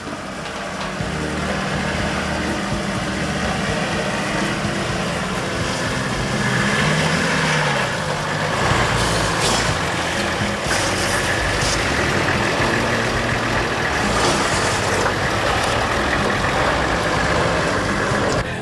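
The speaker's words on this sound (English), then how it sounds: "Now the car and caravan are going through some of the most difficult sections of the road on the Cape." A car towing a caravan grinds along one of the roughest sections of the Cape York road, its engine droning steadily with continuous rattling, bumping road noise and occasional louder jolts throughout.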